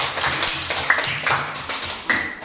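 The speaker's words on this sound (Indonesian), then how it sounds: "Ya, tepuk tangan." A classroom of students claps hands in a scattered, uneven patter for a couple of seconds, moderately loud and close, with a few sharper slaps standing out.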